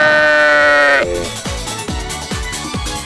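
A goat bleats in a long, wavering cry with rich harmonics, followed by several short, repeated bleats in a quick rhythm; the calls are close and loud.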